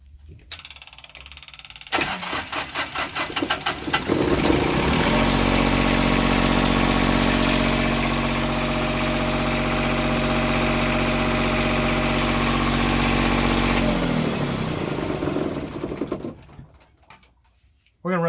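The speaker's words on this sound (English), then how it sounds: "We're going to run this generator for the next several hours" The newly repaired generator on a trawler at Georgetown, Exuma cranks with rapid sputtering, then settles into a loud, steady, close mechanical drone before winding down and falling quiet.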